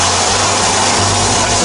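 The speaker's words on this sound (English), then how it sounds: "That's the sound of the bead being broken." Tire bead breaking away from a wheel rim in a Ford service shop, a steady, loud hissing rush of noise that holds for the whole moment with no talk over it.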